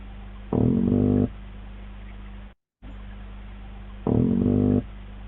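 Two long grunts from spawning meagre fish (Argyrosomus) in a broodstock tank, each lasting under a second and separated by a few seconds of steady low hum from the tank.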